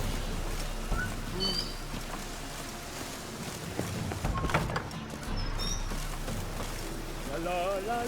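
Steady rain patters across the streets in The Witcher 3, a constant hiss beneath scattered ambient game sounds and brief tonal calls.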